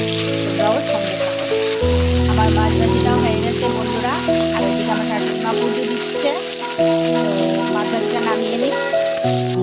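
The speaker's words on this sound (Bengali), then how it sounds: "আমি এবার অন্য কাজ করি আর এই ফাঁকে আমার মাছটা ভাজিয়ে যাক" Pieces of rohu fish sizzle steadily in hot oil in a pan, a constant crackling fry that runs throughout under background music and a voice.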